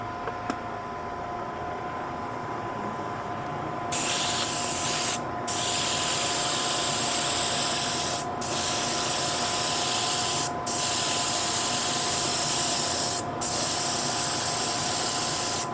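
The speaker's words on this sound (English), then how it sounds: "And let's spray it again." An aerosol can sprays Clean Armor Wood 720 white undercoater onto sanded wood in several long hissing bursts, each separated by a brief pause, following a quieter stretch of background hum.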